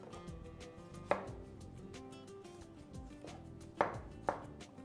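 A few sharp knife chops on a board, cutting vegetables including tomatoes, spaced irregularly and close up, over a steady low background hum.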